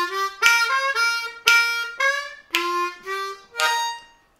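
Blues lick on an Eb harmonica from a song, several short reedy phrases with a punchy tongue slap, close and solo, no voices.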